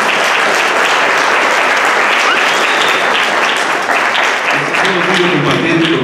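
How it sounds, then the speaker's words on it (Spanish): Dense, sustained audience applause fills the hall at a municipal recognition ceremony honoring fireworks artisans in Mixquiahuala, loud and steady throughout, with a voice briefly rising over the clapping near the end. "El aplauso para ellos."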